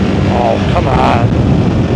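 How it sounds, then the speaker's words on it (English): Loud, close wind roar rushes through an open helmet while riding a 2025 BMW R 1300 GS Adventure motorcycle, a dense continuous buffeting that fills the whole moment. "Okay, a lot of wind on me."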